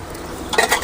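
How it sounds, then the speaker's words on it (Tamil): Millet and urad dal dry-roasting and being stirred in a pan, a soft steady rustle with a couple of brief louder scrapes near the end. "நல்லா வறுத்து எடுத்துக்கலாம். உளுந்து கம்பு எல்லாமே நல்லா சேர்த்திக்கணும்."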